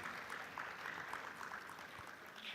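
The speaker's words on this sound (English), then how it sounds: "So let's give a huge round of applause to Tanupa ma'am" Audience applause fills a hall at a live technology summit session, a steady wash of many hands clapping throughout with no talk over it.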